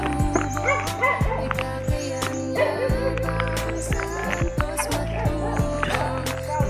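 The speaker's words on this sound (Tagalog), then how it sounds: "Ingay naman tong aso na to" A dog barks repeatedly in sharp, loud bursts close by, with some yips mixed in over a busy background.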